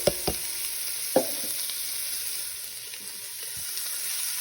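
Vegetables dropped into a hot pot for red wine short ribs sauté with a steady, soft sizzle, while a few sharp clinks of utensils against the pot stand out at the start, near and fairly quiet.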